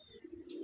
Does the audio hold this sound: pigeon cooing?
yes